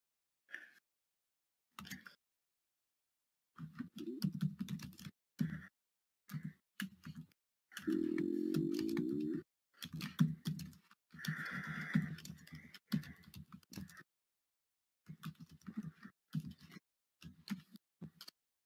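Someone types on a computer keyboard in irregular bursts of soft clicking keystrokes with pauses between, fairly close and quiet, along with a brief low hum partway through.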